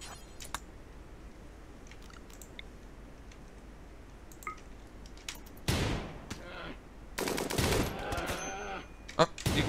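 Gunfire erupts in the RimWorld video game, with sparse sharp clicks and shots at first, then loud bursts of rapid fire near the end.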